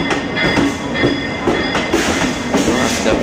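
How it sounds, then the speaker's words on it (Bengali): A train runs right beside houses, a loud, close rumble with repeated clickety-clack beats from the wheels and a faint metallic squeal throughout. "এবার ট্রেন তো আসবে থাকবে"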